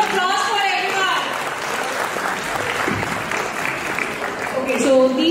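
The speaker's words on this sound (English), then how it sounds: "a big round of applause for everyone." Audience applause at a college fashion show at IIT Delhi, loud, dense and sustained clapping from a large crowd throughout, with voices mixed into the noise.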